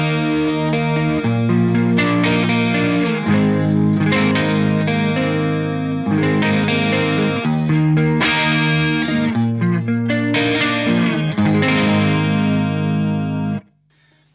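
Electric guitar through a Marshall JCM900 tube amp with a shimmering chorus effect playing sustained chords and melodic lines, loud and full, stopping abruptly near the end.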